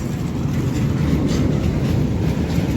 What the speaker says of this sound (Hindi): और वही रेलगाड़ी चल देखा संगारी ये तो मालगाड़ी है रे